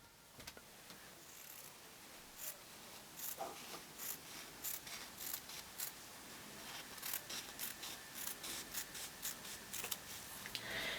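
Scissors or shears cutting through quilt fabric along a marked line, a steady series of short crisp snips and rubbing blade strokes, fairly quiet and close, with no talking.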